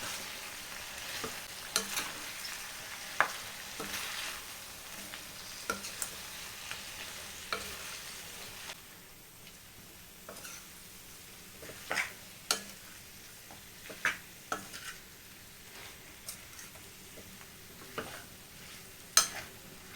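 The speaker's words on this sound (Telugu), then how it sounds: "ఈ చికెన్ ముక్కలకి మొత్తం కలిసేటట్లయితే కలిపేద్దాం" Chicken pieces stirred with ground pepper masala in a pan for chicken fry, soft sizzling under intermittent scraping and knocking strokes of a spoon, quieter in the second half.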